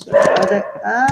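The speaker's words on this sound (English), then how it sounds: "sorry about the dog." A dog close by gives a brief whining, howling vocalisation lasting about a second, loud and tonal, with a voice faintly mixed in.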